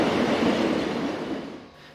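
A local passenger train bound for Trier rolls past on a line also used by iron ore freight, a loud, steady rumble of wheels on rail that begins to fade toward the end.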